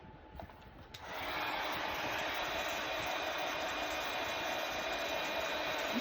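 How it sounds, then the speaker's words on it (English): Blow dryer drying freshly painted nail polish on spring tulip nail art, switching on after a second of quiet room tone and then running as a steady, moderately close blowing hiss to the end. "I'm going to dry this real quick."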